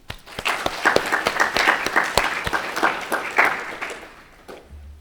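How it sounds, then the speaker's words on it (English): An audience at a summer institute presentation gives a round of applause for the support staff, a few seconds of moderate clapping from a modest crowd that swells and then fades out. "Let's also give a round of applause for them."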